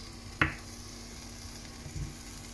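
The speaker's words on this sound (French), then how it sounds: "on va aller, hop, les faire légèrement cuire dans la poêle." Apple slices dropped into a large frying pan to cook lightly, giving a faint, steady sizzle with a sharp crackle as a piece lands and a soft knock from the pan a moment later.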